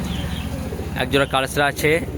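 Pigeons of Madras breeds, black-headed and red-headed kalsira and lalsira plus black-green birds, cooing in a loft in Beldanga, Murshidabad: a faint low murmur first, then several louder rolling coos close by, with breathy throbbing pulses.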